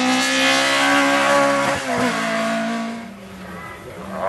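A race car accelerates hard up the course at the Hauenstein hill climb, its engine note rising and falling through gear changes, then fading as it pulls away, with a commentator talking over it.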